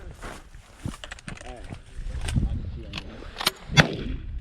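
Shotgun shots ring out at flying geese during a Texas goose hunt, with several sharp reports scattered among excited shouting hunters and goose calls, the loudest blast near the end.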